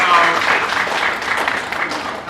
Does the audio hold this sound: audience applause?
yes